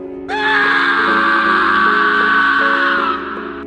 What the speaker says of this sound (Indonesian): Adit berteriak sekeras-kerasnya.